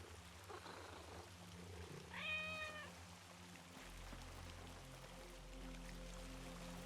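A single drawn-out meow from a cat in a video game, mid-level over steady background game sounds and a low hum.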